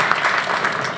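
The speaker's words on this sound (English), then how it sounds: "can we clap for both of them once?" Brief burst of audience clapping at a business masterclass session, a short, fairly loud patter of hands with no speech over it.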